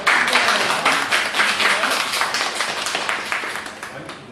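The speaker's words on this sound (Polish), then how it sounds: "To wielkie brawa dla Pani, naprawdę." Dense, steady clapping from a crowd at an art exhibition opening fills the whole stretch, loud and continuous with no voices breaking through.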